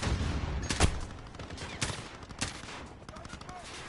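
Gunfire in the video game Modern Warfare: rapid bursts of shots over a constant battle din, with several sharp individual cracks standing out through a dense, loud firefight.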